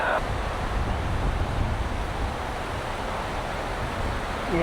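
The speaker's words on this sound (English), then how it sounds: "It is super freaking windy out here." Strong, gusting outdoor wind roars steadily into the microphone as a dense, unbroken rush with no pauses and no voices.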